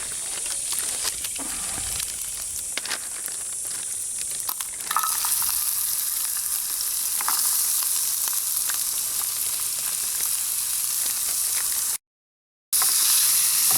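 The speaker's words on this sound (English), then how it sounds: "Just going to put a tiny bit of oil. Get the onions started before I add the butter." Onions hitting a little oil in a mess kit pan outdoors, a steady bright sizzle that jumps louder after a few seconds and keeps hissing, with light stirring scrapes, broken by a brief silent gap near the end.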